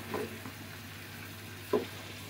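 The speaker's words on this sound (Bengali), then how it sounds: "এটাতে আমি মুরগি কষিয়ে নেব" A whole chicken sautés in oil in a pan, giving a faint, steady low sizzle with a couple of soft stirring scrapes, heard up close with no voices.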